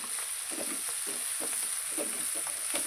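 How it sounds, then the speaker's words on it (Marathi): Fenugreek leaves mixed with gram flour stir-fried in hot oil after cumin has crackled, a steady close sizzle with soft repeated scraping strokes of stirring throughout. "हे छान तडतडलं की आता आपण मिक्स करून घेतलेली भाजी फोडणी घालून घ्यायची आणि व्यवस्थित परतत राहायची"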